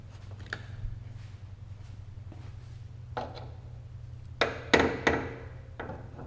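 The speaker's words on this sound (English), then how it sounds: "Try hitting it with the hammer one more time." Hammer blows strike a part during an LS engine swap into a Porsche 944: a few scattered, moderately loud metallic knocks over a steady low hum, with a quick cluster of hits near the end.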